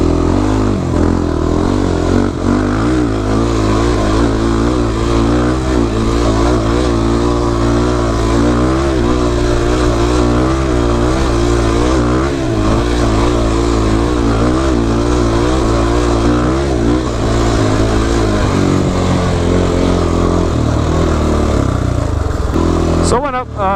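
A rebuilt ATV engine with a freshly bored cylinder and 85.5 mm piston runs loud and close, holding a steady throbbing idle with rising revs before easing down near the end.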